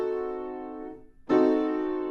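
A fully diminished seventh chord built on C, played in ear-training style with jazz and classical naming, sounds as one sustained chord. A short gap follows, and then the chord is struck again near and clear, with no voice over it.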